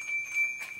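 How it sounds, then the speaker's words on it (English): A hand-tuned rustic bell made in India chimes once, a clear sustained ring with a bright, lingering tone that swells slightly before fading, heard close and alone. "I think it's a bell."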